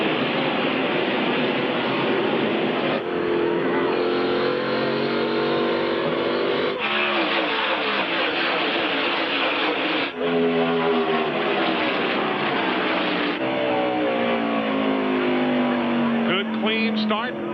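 NASCAR Cup race cars roar as they accelerate at the green flag of the 1998 Jiffy Lube 300 at Loudon, with loud engine drones rising and shifting pitch repeatedly under continuous broadcast commentary.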